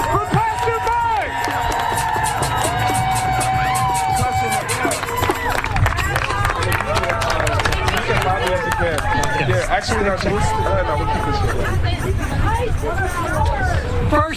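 A large protest crowd in Chicago cheers and shouts for Pastor Mike, a dense continuous roar of voices, whistles and whoops that holds loud and steady throughout.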